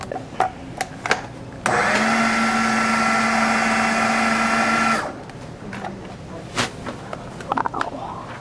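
A kitchen blender whirls chocolate mousse cake filling made with cacao in one loud, steady burst of about three seconds, with scraping and clatter before and after.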